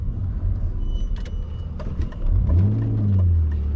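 A BMW Z3 2.2 six-cylinder roadster engine runs at low speed in town, a steady near rumble with a short rise in pitch toward the end, heard alone without talk.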